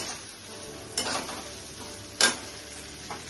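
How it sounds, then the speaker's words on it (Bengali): Prawns being stirred in a pan with poppy seed paste for a Bengali posto chingri dish, giving a low sizzle broken by two clear scraping strokes and a fainter third. "পোস্ত দিয়ে আমি আবার নাড়াচাড়া করছি।"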